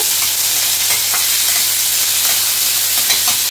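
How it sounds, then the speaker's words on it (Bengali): Chopped onion fries in oil in a pan while being stirred, a dense steady sizzle with scraping strokes running throughout, close and fairly loud, before a spoon clatters at the very end. "পেঁয়াজটা একটু ভাজা ভাজা হোক"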